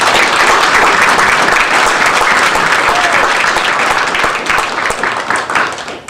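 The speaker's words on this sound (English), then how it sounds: "Let's give all of our volunteers a big round of applause" A large audience at a military town hall meeting at Camp Humphreys, South Korea, applauds its volunteers: steady, dense clapping that stays loud throughout and tapers only slightly toward the end, with faint voices mixed in.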